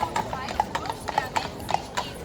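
Horses' hooves clip-clop at a brisk, uneven pace on a street in Germany, close and clear, with people talking in the background.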